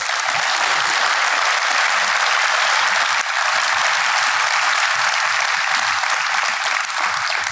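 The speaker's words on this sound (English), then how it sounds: "Let's give this class of 2023 another round of applause." Loud, sustained applause from a large audience at a school awards day, dense clapping that stays steady throughout with no voices over it.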